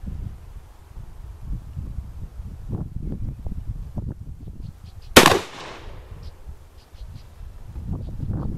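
A single loud blast from a 12 gauge IAC Hawk 981R shotgun firing Rio Royal buckshot at a target 25 yards away outdoors, one sharp report with a short ringing tail above a steady rumble of wind.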